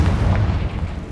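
Confringo explosive spell in Hogwarts Legacy, a short deep booming blast with a rumbling low-end tail, loud and close, no talking.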